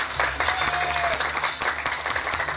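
A crowd at a village festival carnival in Cantón Juan Yanes, Uluazapa, applauds their mayor with strong, sustained clapping that holds steady for nearly three seconds over a low background hum.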